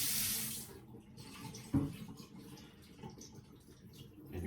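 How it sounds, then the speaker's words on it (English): Water runs and drains off chicken at a kitchen sink, a soft close trickle with one brief louder splash partway through, then quieter dribbling. "Let's just get rid of the water for now."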